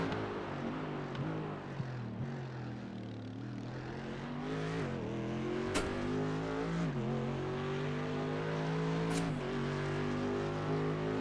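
A race car engine at Spa in the iRacing video game, a Mercedes-AMG, drones and revs continuously with rising and falling pitch through gear changes. Two sharp clicks cut through the steady, fairly loud roar.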